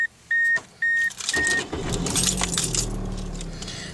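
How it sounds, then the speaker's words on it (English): A 1994 Mercury Tracer with about 70,500 miles is started with the key: a few warning chimes and jangling keys, then the engine cranks and settles into a steady idle close by. "I'll go ahead and start the car up"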